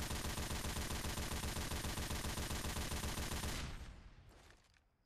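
A mounted minigun fires in the video game Left 4 Dead 2, a loud, dense, unbroken stream of rapid shots for several seconds that stops abruptly and leaves a fading mechanical spin-down and tail.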